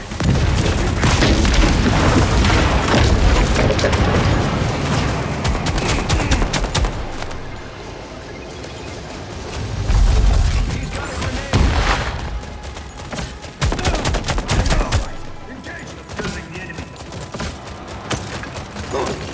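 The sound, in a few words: gunfire in Expanse Osiris Reborn video game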